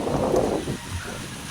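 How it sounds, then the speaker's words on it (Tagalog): Wind buffets the microphone in a loud rumbling gust that eases off after a moment. "Masyadong mahangin po dito."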